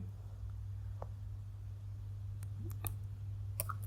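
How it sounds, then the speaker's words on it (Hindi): A few soft mouse clicks while working in Tally Prime accounting software, isolated and faint over a steady low electrical hum, with a pair of sharper clicks near the end. "सेल पे हम क्लिक कर देंगे"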